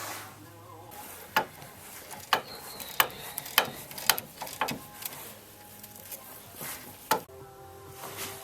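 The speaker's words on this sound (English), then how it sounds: "what you'll need is some kind of puller. You fit that on there and then turn that" A puller tool is turned to press out a tie rod end on a Plymouth Neon, giving a series of sharp metallic clicks and ratcheting snaps, fairly close, spaced irregularly over a low hum.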